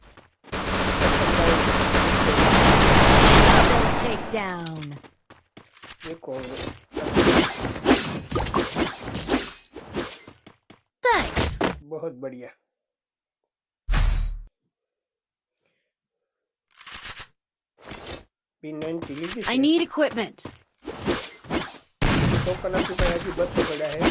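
Bursts of gunfire in the battle-royale game Free Fire, several loud clustered volleys separated by short silences, with a player talking over the shooting.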